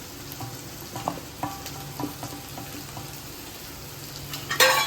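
Pabda fish curry cooking in a pan, a continuous soft sizzle and bubbling with occasional light scrapes and a louder stir near the end, no talking.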